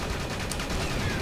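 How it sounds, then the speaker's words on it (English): Machine gun fire in Battalion Wars, a heavy tank nearby, rattles as one loud, continuous, saturated burst that fills the short moment without pause. "Strafing around its machine gun fire"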